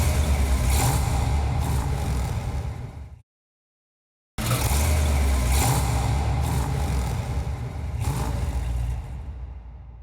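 A 1969 Dodge Charger R/T with a 426 Hemi and 4-speed runs with a steady, loud engine rumble that cuts out to silence briefly partway through, then resumes.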